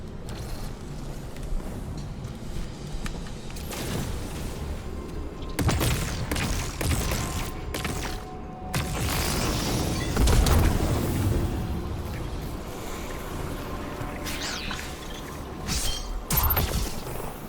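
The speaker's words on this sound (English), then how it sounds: "Guardian, it's supercharging the cannon." A cannon supercharges in a video game, building as a loud mechanical rumble with deep booms, creaks and clanking surges that swell and recede over the span.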